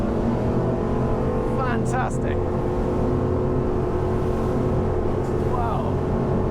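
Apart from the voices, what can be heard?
V8 engines of SAY 42 carbon superboat at speed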